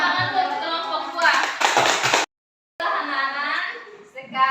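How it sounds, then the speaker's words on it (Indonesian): A classroom of students claps for a group after its presentation, a burst of many hands clapping mixed with chatter and children's voices, broken by a short silent gap before voices resume. "Tepuk tangan buat kelompok gua."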